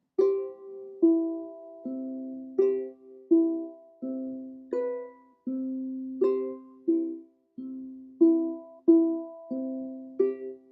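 A plucked ukulele melody from Kalena Kai with clear, bright notes picked one after another at a steady, unhurried pace, ringing out alone.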